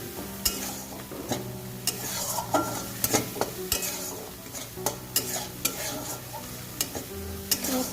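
Spice masala being stir-fried in a pan, a continuous sizzle broken by repeated sharp scrapes and clicks of a spatula stirring against the metal, close and fairly loud with no talk.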